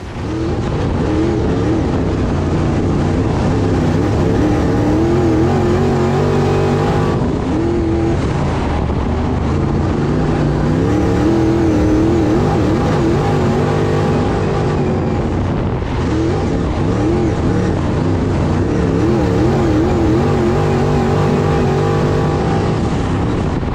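Stock cars racing around an oval track pack together in a continuous, loud engine roar with rising and falling revving tones as they sweep through the turns, and no voices are heard.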